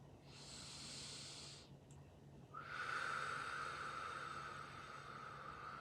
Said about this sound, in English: let's take like 2 deep breaths